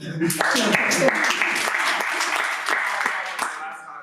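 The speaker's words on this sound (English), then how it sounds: "give Nancy an applause" An audience applauds theatre artists at a talkback session, with clapping of moderate density under and between voices that keep talking over it.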